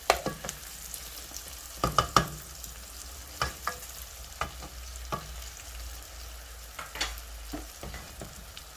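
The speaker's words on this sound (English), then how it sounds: "so just let the mushrooms cook into the onions now. Give it a stir from time to time" Mushrooms and onions cooking in a pan, a quiet steady sizzle punctuated by repeated sharp taps and scrapes of a spoon as they are stirred, close and alone.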